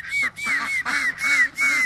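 Park ducks quack loudly and repeatedly at close range, a steady run of honking calls one after another.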